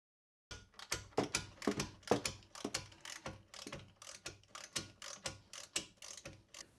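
A ratchet wrench works a nut on a car's rear brake line, giving a rapid series of sharp metallic clicks in short bursts with a steady back-and-forth rhythm, close and distinct with no talking.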